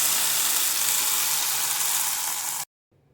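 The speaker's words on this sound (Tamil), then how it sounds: "ஆட் பண்ணி நல்லா கலந்து விட்டுக்கிறேன்." Ground spinach paste is stirred into masala in a pan during cooking of aloo palak paneer: a loud, close, steady sizzle of frying holds for a few seconds, then cuts off abruptly into silence.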